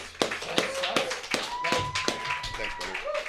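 A few hands clap in separated, sharp strikes, loud and close, while a voice talks alongside on a sports podcast.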